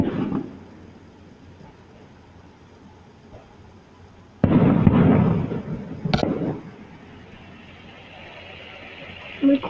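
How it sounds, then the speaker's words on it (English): Outdoor fireworks burst at a distance: a low rumble first, then a loud boom and crackling, followed by a sharp pop and fading echoes, with quiet background between. "I'm recording the fireworks."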